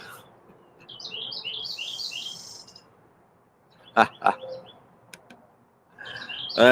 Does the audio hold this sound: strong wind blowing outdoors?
no